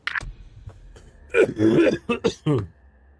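A few sharp coughs followed by harsh, rasping throat clearing in several bursts, close and loud, with no talking, from the video game Days Gone.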